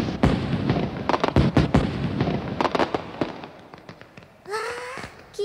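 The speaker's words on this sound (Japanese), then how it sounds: "この花火は俺の手作り、" Rapid crackling and popping of handmade fireworks in the dark, many sharp bangs in quick succession, followed by a whistling rocket rising near the end.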